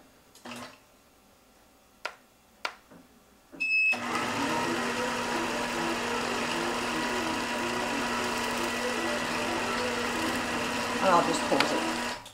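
A computer-controlled Helen's iQ sewing machine starts after a few clicks and taps, then runs at a steady, close, even mechanical whir while stitching a motif, holding constant to the end.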